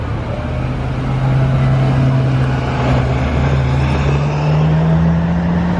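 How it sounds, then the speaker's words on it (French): A V12 sports car on the streets of Monaco gives off a steady engine drone with a slowly rising pitch as it passes nearby, fairly loud throughout, with no voices. "Un autre V12 mais un petit peu moins bruyant."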